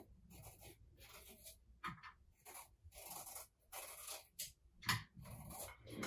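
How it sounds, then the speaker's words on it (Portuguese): Guavas being peeled by hand while preparing a guava mousse, heard as faint, intermittent scraping and rubbing strokes in short bursts separated by brief quiet gaps, close up with no talking. "primeiro eu vou descascar as goiabas e tirar a semente"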